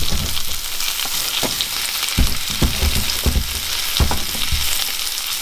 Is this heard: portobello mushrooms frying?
yes